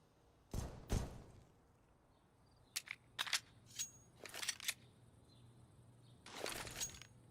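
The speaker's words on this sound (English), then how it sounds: "Making no secret of the Glocks either. Note how much spamming you're hearing of that." Glock pistol fired repeatedly in Counter-Strike on the Inferno map during a pro match: a series of sharp, snappy pistol shots in irregular clusters, some spaced singly and others in quick flurries, fairly faint with no talk.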